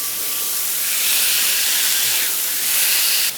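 Smash burger tacos searing on a hot griddle give a loud, steady broadband hiss that swells and eases slightly, close up with no talking.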